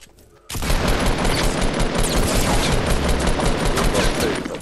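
A gold SCAR assault rifle fires in Fortnite. The gunfire starts abruptly after a short pause, then roars on as a dense, loud, continuous barrage of rapid shots until the end.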